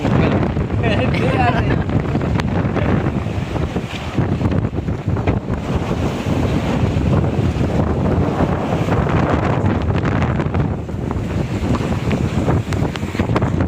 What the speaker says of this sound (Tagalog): kahit malakas na yung alon at saka yung hangin